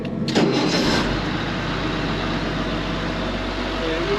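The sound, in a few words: starter cranking the engine of a Case IH Steiger 9350 tractor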